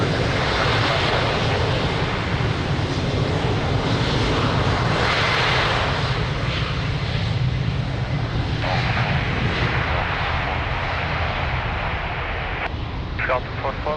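A fixed-wing airplane taking off from runway 02 at Lisbon Airport makes a loud, continuous engine roar that fills the whole stretch, while radio voices talk over it.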